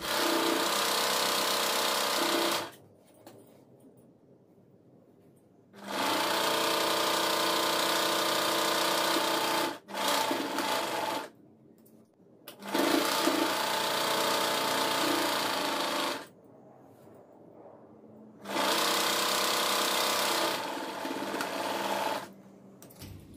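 Sewing machine stitching the side joint of a blouse sleeve, close steady mechanical whirring in four long runs separated by quiet pauses.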